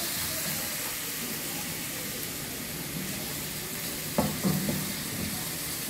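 Tomato sauce sizzling as it hits garlic frying in oil for Egyptian koshari, a continuous close crackling hiss with a brief burst of louder spluttering and stirring near the end.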